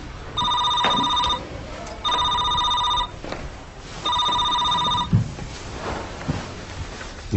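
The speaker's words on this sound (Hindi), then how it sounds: "बात दरअसल आपका फोन है।" A telephone rings indoors in three long, even bursts of bright electronic trilling, separated by short pauses and then fading into quiet room noise.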